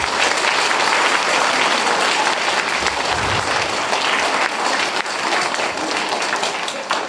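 A theater audience bursts into loud, sustained applause for a children's show, dense clapping filling the room continuously for several seconds without pause.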